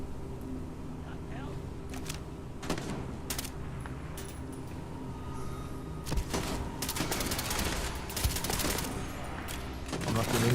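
Scattered gunshots in a firefight in Starfield, Shattered Space expansion, survival mode, with sharp cracks spread through a busy bed of game ambience and rumble, growing denser in the second half.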